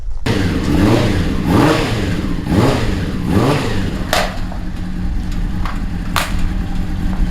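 Twin-supercharged Honda CBR600RR engine in a home-built cross kart revs hard in repeated rising and falling surges, loud and close, then cuts out.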